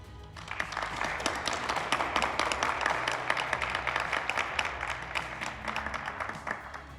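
An audience at a medical conference lecture on emergency medicine applauds, with dense, continuous clapping building up quickly and holding steady for several seconds.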